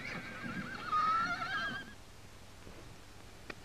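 A horse neighs with a loud, wavering whinny lasting about a second, followed by quiet ambient outdoor noise and a faint click, in a 1940 western film setting.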